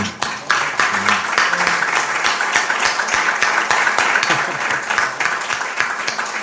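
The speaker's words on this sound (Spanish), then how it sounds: "yo me atrevería a pedir un aplauso para esta luminaria de la cultura cordobesa que es Serafín Pedraza" An audience at a cultural event in Córdoba applauds Serafín Pedraza, with dense, sustained clapping close by that holds a steady level throughout, sharp individual claps standing out from the crowd.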